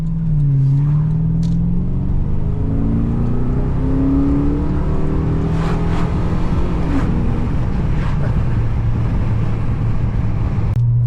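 A Holden HSV VT GTS with a 5.0L V8 accelerates hard on the highway, its deep exhaust rising in pitch through a long pull and a gear change, then droning on steadily, loud and close from inside the car.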